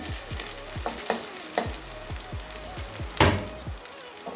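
Nigella seeds and spices sizzling in hot oil in a pan for a Bengali curry, a steady close crackle with popping bursts and a few sharp ladle clinks as the mix is stirred.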